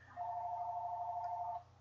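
A telephone ringing downstairs, a single steady electronic ring tone lasting over a second, fairly faint and alone.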